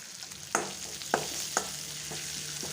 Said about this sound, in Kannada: ಫ್ರೈ ಮಾಡಿ ಸ್ವಲ್ಪ ಜೀರಿಗೆ ಪುಡಿಯನ್ನು ಹಾಕ್ಕೊತಾ ಇದ್ದೀನಿ